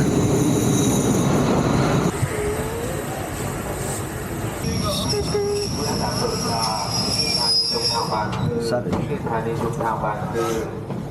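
A train rumbles along with loud metallic wheel squeal and clattering, steady and close throughout, with voices faintly mixed in.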